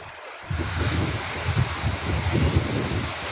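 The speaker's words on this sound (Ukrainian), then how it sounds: "У нас дуже сьогодні великий вітер." Strong, steady wind roaring through trees, a dense broadband rush with gusty swells and rustling, no voices.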